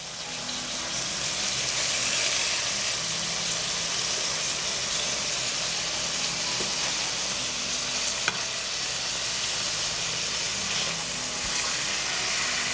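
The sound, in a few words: chicken fillet sizzling while frying in a pan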